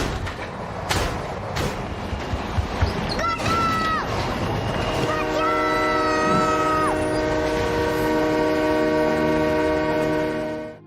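A train in a film pulls away with rumbling, rolling noise, and a long, loud horn blast sounds near the middle. The horn then holds as a steady sustained tone over continued motion noise to the end.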